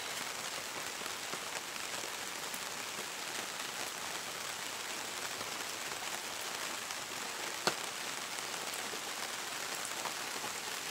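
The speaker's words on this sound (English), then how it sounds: "I'll have to do another one of these when it's not pouring rain," Heavy rain pours steadily onto a tarp overhead, a dense, constant hiss and patter with no break for the full stretch, plus one sharp drip or tap near the end.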